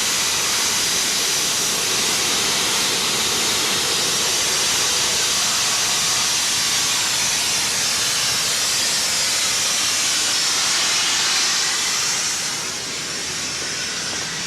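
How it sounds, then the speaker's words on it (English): Loud, steady hiss of air escaping from the valves of all eight tires on a Tireboss-equipped truck, a continuous broadband rush that holds for the whole stretch before easing slightly near the end. "the air is coming out from all 8 tires, so you have to shut each individual wheel valve"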